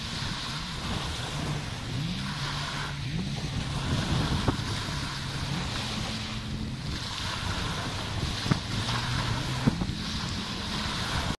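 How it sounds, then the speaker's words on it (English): Ocean waves wash in steadily under a constant rush of wind, with a low rumble that may be a passing boat, heard alone at moderate volume. "What about the ocean? The music of ocean."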